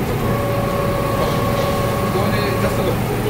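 Continuous rumbling train noise heard from inside a carriage on a local Nakanoshima Line train, a steady low roar with a faint tonal hum running through it.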